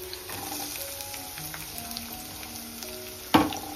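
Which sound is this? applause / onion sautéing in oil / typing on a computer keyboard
onion sautéing in oil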